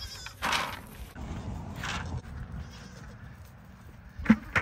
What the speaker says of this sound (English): Lil baby goat right